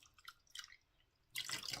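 Water poured onto rice in a rice cooker, heard as a few faint trickles and drips, then a louder splashing pour at the end, close and quiet overall.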